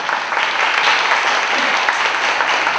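Warm applause for Thomas at an evening student film presentation, many hands clapping steadily and evenly throughout.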